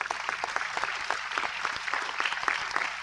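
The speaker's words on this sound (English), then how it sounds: "I think you can all give them a big round of applause" Audience at a biodiversity technology summit breaks into applause, a dense, steady patter of many hands clapping close by with no voices over it.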